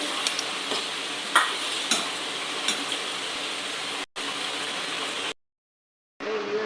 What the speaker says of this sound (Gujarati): હવે એને ધીમા ગેસે છે ને ટમેટાની ગ્રેવીને અમે કકડાવા દઈશું